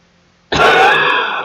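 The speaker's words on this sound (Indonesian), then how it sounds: "Agak batuk sedikit ya." A single throat-clearing cough from a man giving an Indonesian religious-style speech opening, a sudden loud rasping burst lasting about a second, close to the microphone.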